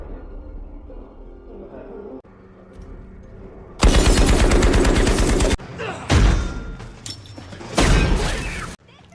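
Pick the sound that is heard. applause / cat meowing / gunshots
gunshots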